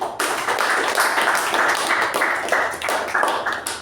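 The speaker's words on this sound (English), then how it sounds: "can we have a huge round of applause for him?" Audience at a Toastmasters club meeting gives a speaker a round of applause, steady moderately loud clapping throughout.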